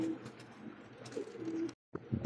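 Pigeons kept in a breeding loft coo softly up close, low repeated throaty calls with a brief silent gap near the end.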